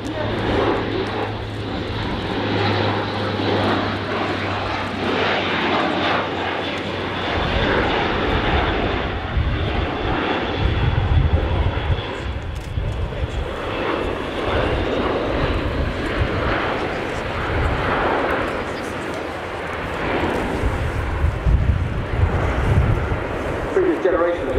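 Airbus A400M military turboprop transport aircraft flying at an air show, its engines producing a continuous loud propeller drone and roar throughout, with wind noise and a commentator talking over it.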